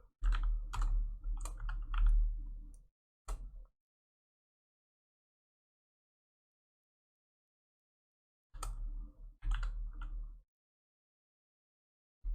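Keys clatter on a computer keyboard as a folder name is typed, two bursts of quick close clicking separated by a long silence, with no voice.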